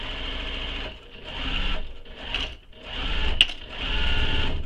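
A sewing machine stitches across the lining of a crossbody bag, its steady fast mechanical whirr running in bursts with brief pauses between them and a sharp click near the end.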